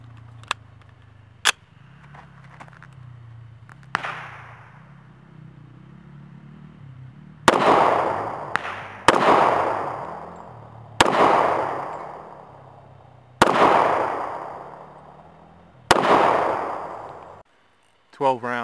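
A Jericho .40 S&W pistol, the Baby Desert Eagle II by IWI with a stock Tanfoglio magazine, fires five loud, sharp shots spaced about two seconds apart, each followed by a ringing decay, with faint earlier clicks and handling noise.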